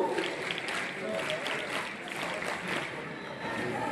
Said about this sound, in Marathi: पुन्हा एकदा आपण जोरदार स्काउट पद्धतीने टाळ्या वाजवून मान्यवरांचे स्वागत करत आहे